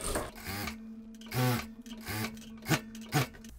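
A sewing machine stitches bias binding right sides together along the armhole edge of a denim dress, running in short bursts with a steady whine and brief pauses between runs.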